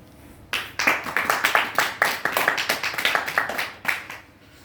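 Audience at a Republic Day gathering claps together in a brisk, even rhythm, many hands striking in unison for about three seconds. The claps are sharp and close, then stop abruptly into near quiet.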